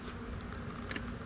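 Honey bees buzz around a Flow Hive 2 during a mite treatment, a dense, steady drone that stays close and constant with no voices.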